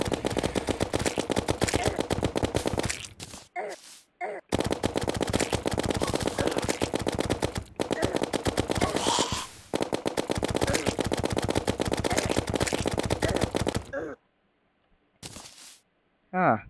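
Gunfire in a video game during a Blood Moon event, long bursts of rapid machine-gun fire broken by short pauses and brief quiet gaps near the end, loud and continuous.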